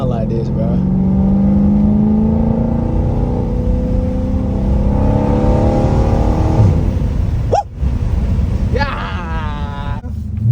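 A 392 Scat Pack Dodge Charger engine roars loudly and close in a continuous rumbling drone with rising revs, followed by a quick blip and a higher whining rev near the end, with voices talking over it.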